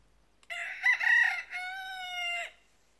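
A rooster in a henhouse lets out one loud, close crow, rising and then holding a long drawn-out note, with no other sound around it.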